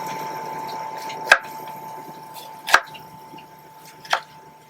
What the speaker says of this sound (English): I'm gonna chop a red onion.